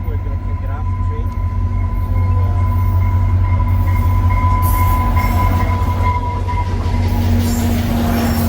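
A passenger train at Brockville station rumbles steadily close by, loud and continuous, with a faint high squeal of wheels riding over the low drone.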